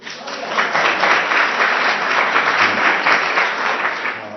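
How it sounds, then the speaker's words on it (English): A small audience at a live author conversation event claps, a few people's hands giving a sustained, moderately loud patter that lasts the whole stretch with no voices over it. "only 4 people clapped for you"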